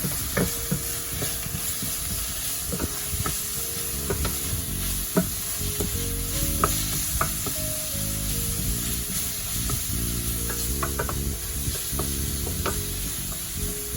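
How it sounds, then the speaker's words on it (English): Food being stirred in a hot pan with garlic powder, sizzling and frying steadily throughout, with repeated scraping and clinking strokes of the utensil close up. "I'm going to give this a good stir."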